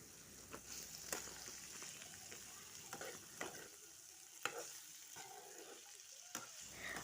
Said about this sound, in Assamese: এইখিনি এনেদৰে ভালদৰে ভাজি ল'ম